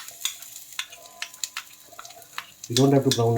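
Chopped garlic hits hot oil in a pan, bursting into a loud, close sizzle after scattered soft clicks and stirring taps.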